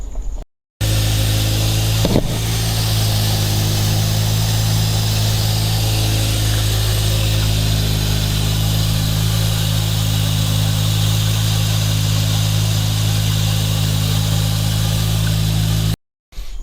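A Mazda FC3S RX7 rotary engine with a custom exhaust and Inconel heat-shielded, wrapped downpipe idles steadily and close by, a constant low drone with one brief sharp blip early on.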